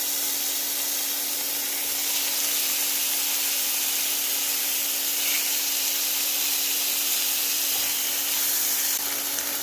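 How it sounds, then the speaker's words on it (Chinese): Salmon frying in a little hot oil in a pan, a loud, steady, close sizzle and hiss that carries on unbroken, with no talk. "锅内再加入少许的油，然后放入三文鱼"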